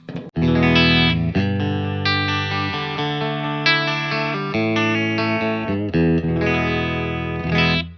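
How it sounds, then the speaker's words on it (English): A clean electric guitar through a Bravado amp plays a run of ringing chords and single notes, steady and fairly loud, with no talking. "First, my clean tone is through the bravado, sounds like this."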